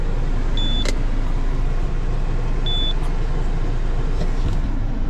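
A Citroën C4's restarted engine runs in a steady, loud, even drone with no variation, broken only by two short high electronic chirps early and midway.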